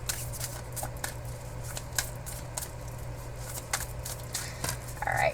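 Playing cards shuffled for a tarot-style stone reading, a steady papery riffling and rustling that runs close and moderately loud throughout, with brief sharper flutters near the end.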